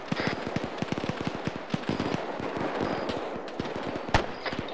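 Rapid bursts of video game gunfire crackle in a steady, dense stream, sharp and close, with a louder shot near the end.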